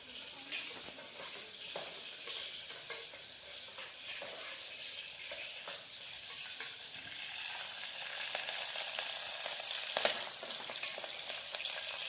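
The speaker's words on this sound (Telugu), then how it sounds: "ఆనియన్ వేసుకుందాం. ఆయిల్ వేడైంది." Steady, bright sizzling of onions frying in hot oil, with occasional stirring scrapes and pops across the whole stretch, no voices.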